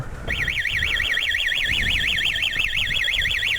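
A loud motorcycle anti-theft alarm on a Yamaha TZR 50 wails in a rapid warbling pattern, starting abruptly and sounding continuously at close range.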